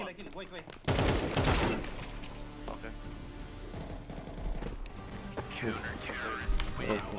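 Desert Eagle gunfire in the video game CS2, several sharp shots in quick succession among other game sounds, with people talking over it.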